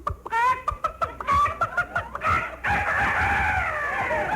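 A rooster crowing played as a radio comedy effect over a phone line: a series of short clucks and broken crowing phrases, then one long sustained crow, loud and close, with no talking over it.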